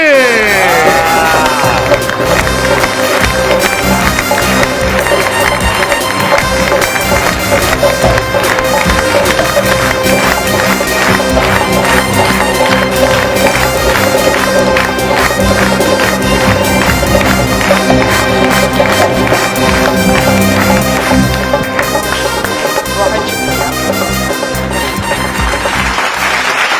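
Dense sustained applause and crowd cheering fill a studio audience as Pakistani actress Hina Dilpazeer makes her entrance, loud and continuous throughout, with music mixed underneath.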